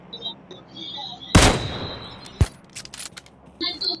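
A single loud gunshot rings out in PUBG Mobile, with a short trailing echo followed by a smaller crack and scattered clicks from in-game action.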